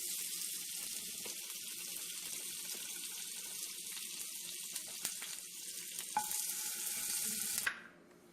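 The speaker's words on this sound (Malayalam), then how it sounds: "ആദ്യം ഒരു പാൻ അടുപ്പത്ത് വെച്ച് അത് ചൂടായാൽ അതിലേക്ക് കുറച്ച് നെയ്യ് അല്ലെങ്കിൽ ബട്ടർ" Ghee or butter heating in a hot pan for prawn masala: a soft, even hiss runs steadily for several seconds, then stops abruptly near the end.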